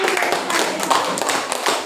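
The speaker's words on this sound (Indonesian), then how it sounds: "Tepuk tangan dulu." An audience at a question-and-answer session claps briefly, a short burst of close hand claps under a little background noise.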